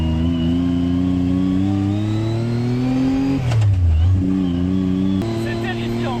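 A Yamaha YXZ 1000R SS side-by-side engine idling at a steady mid-range hum, then revving up sharply for a moment before settling back, close and fairly loud as people talk nearby.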